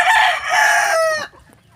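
A single rooster crows once, loud and close, in a drawn-out call lasting about a second before it cuts off into quiet background.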